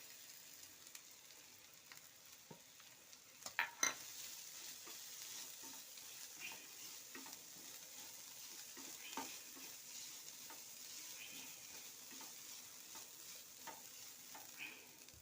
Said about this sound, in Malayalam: ഉള്ളി ഒരുവിധം നല്ല മൂത്തേ. തേങ്ങ പൊടിച്ച് വെച്ചതാണ്. തേങ്ങ ഇട്ട് കൊടുക്കുക.